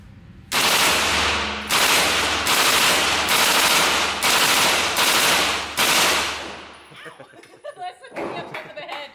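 Automatic gunfire from a gun with a thumb trigger rips out in six or seven loud, close bursts of about a second each, separated by short pauses, and laughter and talk follow the last burst.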